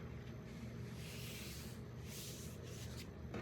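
Folded paper line for a photo album being burnished, a soft, continuous rubbing and scraping texture, close and quiet, with no talk.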